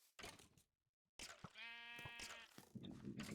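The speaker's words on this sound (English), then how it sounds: "I've just found a pink sheep" A sheep bleats in the Minecraft video game, a single wavering, harmonic bleat in the middle of the clip, heard between bursts of game sound effects.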